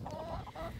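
Brief, close clucking from chickens, a couple of short throaty calls over a murmuring barnyard background.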